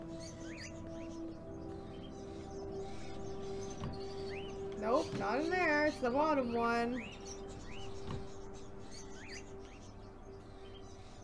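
Birds chirping in the video game Fahrenheit: Indigo Prophecy, light scattered tweets under a low steady hum, with someone talking briefly in the middle.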